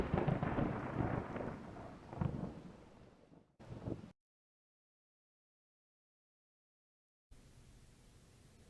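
Homemade Halloween lightning strike effect with a rumbling thunder burst that swells and fades over a few seconds, followed by a short crackle, abrupt silence, then a low steady hiss.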